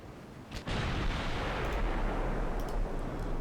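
Warship 6-inch secondary guns firing in a naval video game, a sudden loud blast followed by a sustained rumbling roar that lingers under faint crackling.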